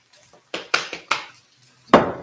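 Food being stirred in a cooking pan: a utensil knocks and scrapes against the pan in several separate clattering strokes with short pauses between them, up close and without speech.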